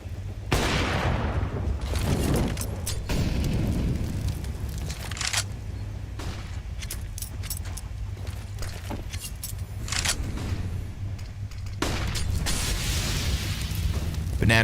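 Grenades and Molotovs traded at Banana on the Inferno map in Counter-Strike, heard as repeated loud bursts, booms and sharp transient cracks over a constant low game hum, spread across the whole stretch.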